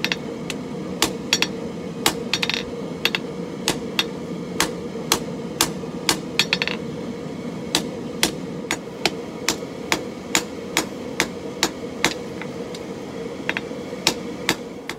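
Steady, ringing hammer blows strike a steel file being forged into a dagger on the edge of an anvil, roughly one or two per second, close and sharp over a low background hum.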